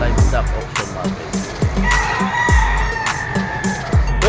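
Chickens and roosters at an early-morning livestock auction market in Padre Garcia, Batangas, with loud repeated clucking and sharp rhythmic calls, a rooster crowing near the middle, and faint background chatter.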